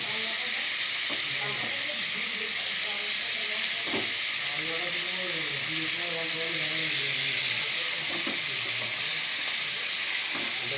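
Chicken frying in a pan with tomatoes and mutton fat, making a loud, constant sizzling hiss with a bright steamy top, while a voice talks over it in pitched phrases.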